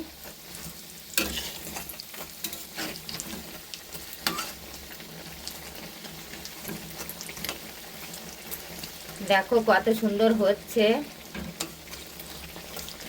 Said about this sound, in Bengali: এক পাশটা আমার ভাজা হয়ে গেছে এবার আরেক পাশটা আমি উল্টে দিচ্ছি